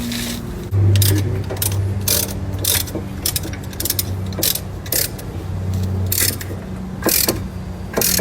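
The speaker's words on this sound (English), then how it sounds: "Same thing to the other side, ratcheting down." Fast ratcheting clicks from a ratchet wrench during a car brake pad change, in repeated bursts over mechanical rattling, loud and close, with no talk.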